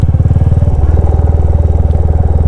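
A Royal Enfield Classic 350 motorcycle running, its single-cylinder engine thumping in a steady, loud, close rhythm with no talk.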